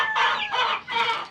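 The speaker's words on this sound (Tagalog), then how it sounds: "Yan na sila. Ang ating mga palahing sisiw." Young Sweater Gilmore gamefowl chicks calling up close in three quick, bright bursts of chirping, each roughly a third of a second long, with no talking.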